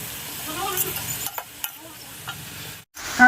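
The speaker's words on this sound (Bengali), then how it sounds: "এখানে বাঁধাকপি ভাজা করছি" Cabbage fries on a wood-fired clay stove, with a soft steady sizzle broken by a few light scrapes and clicks of a spatula stirring in the pan, close and fairly quiet.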